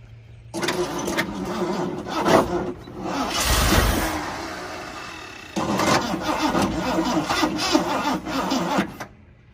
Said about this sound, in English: And we're going to try to fire it up.